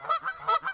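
A recording of geese honking plays back, four nasal honks in a quick, even rhythm, moderately loud and close with no talk over them.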